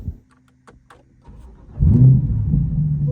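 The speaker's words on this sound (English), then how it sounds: "you can now start the car." A Corvette C8 starts up with a quiet cranking whir and a few clicks, then the engine catches with a loud rising roar at about two seconds and settles into a deep, steady idle rumble.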